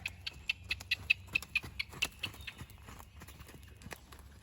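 Hooves of a horse cantering in an arena beat in a quick, regular clip-clop rhythm, fairly close at first and then fading softer and less distinct.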